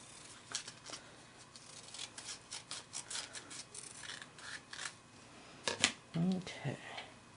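Scissors trim overhanging ribbon from a handmade bow in quick, uneven rasping snips, then a louder cluster of cuts. Speech is heard at points.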